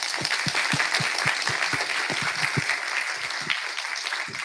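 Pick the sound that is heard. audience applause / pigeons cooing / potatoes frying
audience applause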